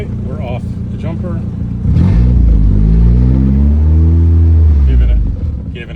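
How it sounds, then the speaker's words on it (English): A car engine cranks and is given gas but fails to catch, running only off the battery, producing a loud close rumbling strain for several seconds with someone talking over the start. "Giving it gas and still not catching."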